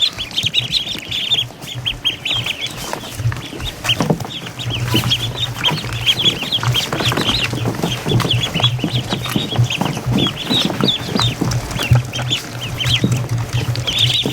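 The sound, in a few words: ducks pecking at the camera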